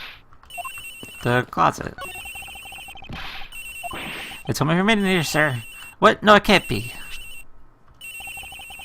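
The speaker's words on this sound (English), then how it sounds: "It's gotta be the victim's cell phone." An electronic cell phone ringtone in the Ace Attorney video game chirps in a repeating patterned tone throughout, ringing on under bursts of voiced game dialogue.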